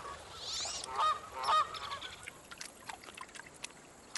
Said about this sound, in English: Canada geese tower over them.